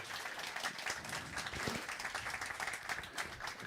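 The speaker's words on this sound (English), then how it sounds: "I suggest that we start by giving you a big applause" An audience claps and applauds continuously for a speaker welcomed on stage at a conference, a dense steady patter of many hands at moderate distance.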